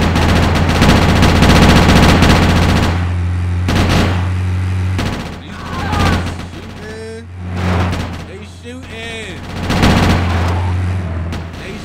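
Rapid automatic gunfire in the video game GTA Chinatown Wars, loud dense bursts over a droning engine, later breaking into shorter volleys with squealing tires, while someone talks over the action.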